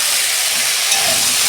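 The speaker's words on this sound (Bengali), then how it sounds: "এই যে ঢাকনা খুলছি।" Steam hisses loudly and steadily as the lid comes off a cooking pot of vegetables frying for a thin fish curry, a close, continuous rush of noise with no voices.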